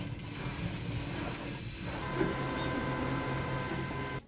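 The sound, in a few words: Anycubic Kobra S1 3D printer running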